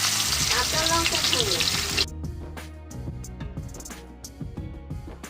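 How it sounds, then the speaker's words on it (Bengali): Fish frying in oil in a pan makes a loud, dense sizzle for the first couple of seconds, then the sound drops away while a voice talks quietly in the background. "এখন মাছ ভাজা বসাচ্ছি বাবা মাছ ভাজা বসাতে গেলে না ভয়ই লাগে একদম কখন তেল ছিটকে আসবে"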